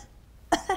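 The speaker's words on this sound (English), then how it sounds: "he's got a bad cough" A man's bad cough, two short harsh bursts close up after a quiet pause.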